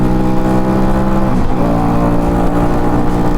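A Musatti Dark Pow 250cc chopper motorcycle pulls uphill out of a corner in second gear, its engine a loud, close, continuous drone that holds steady throughout.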